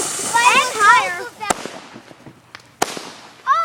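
Consumer fireworks going off outdoors, with two sharp loud bangs and a few fainter pops amid excited talking and whistling sounds.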